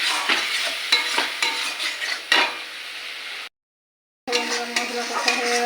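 A spice paste loosened with a little water for an egg and potato curry is stirred and fried in a pan, a close steady sizzle with spoon scrapes, broken by a short gap of silence.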